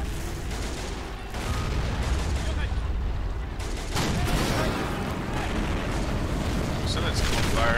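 A 6-pounder cannon fires in a video game amid a continuous dense roar of battle, with booms and gunfire layered loudly throughout and a voice speaking over it.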